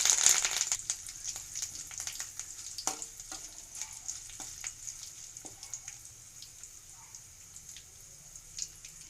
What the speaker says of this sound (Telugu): 1 స్పూన్ ఆవాలు, 1 స్పూన్ జీలకర్ర, 4 ఎండుమిర్చి, 2 రెమ్మల కరివేపాకు వేసుకుని ఫ్రై చేసుకోవాలి